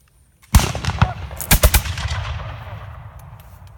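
Musket volley fired by soldiers at a Virginia firing demonstration: a ragged string of loud, close blasts over about a second, followed by a long fading rumble and echo.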